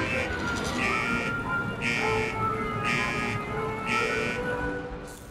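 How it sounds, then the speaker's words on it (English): Enemies in The Evil Within give off repeated electronic beeps, four or five evenly spaced pulses over a steady game background, moderately loud and close. "I hate those beeping noises from those."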